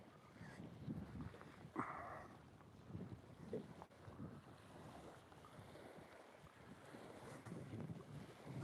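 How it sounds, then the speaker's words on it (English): Wind blows steadily outdoors on a fishing boat, a low buffeting rumble across the microphone with faint water lapping, fairly quiet and with no talking. "this sucks with the wind"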